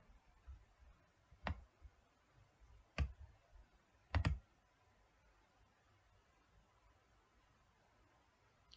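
Three crisp, close mouse clicks on a computer while following a link, spaced a second or so apart, the last a quick double; quiet room tone fills the gaps, no talk.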